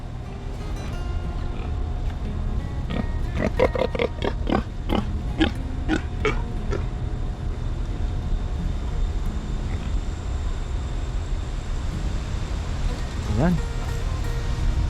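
Several pigs grunting and squealing in a burst of short calls through the middle, over a constant low background drone, with someone talking at times.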